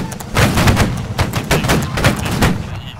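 Video game combat with a steady barrage of gunshots in quick, uneven bursts over a rumbling battlefield background, loud and close, with no one speaking.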